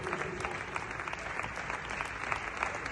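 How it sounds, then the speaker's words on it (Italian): Audience applause welcoming two performers at a music lecture event in Caorle, a steady, dense clapping that stays even and fairly loud throughout without pauses. "Ecco, io direi di accogliere subito con un grande applauso Nicolò e Shadei."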